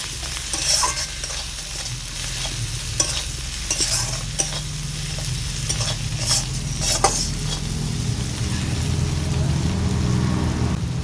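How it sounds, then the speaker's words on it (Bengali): Okra seasoned with salt and turmeric being stirred in a pan, a steady sizzle with a utensil scraping and clinking against the metal in irregular strokes, fairly close and continuous. "সব কিছু নেড়ে চেড়ে নিচ্ছি"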